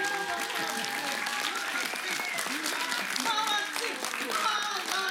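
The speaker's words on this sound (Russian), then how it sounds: "Еще аплодисменты." A concert-hall audience applauds at a recital by two young pianist brothers, with sustained, even clapping from a sizeable crowd and voices calling out over it throughout.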